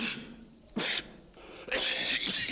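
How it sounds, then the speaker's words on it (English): A person coughing in a horror film scene, two or three short harsh bursts separated by quiet pauses, fairly close and moderately loud. "That's a rather nasty cough you have there."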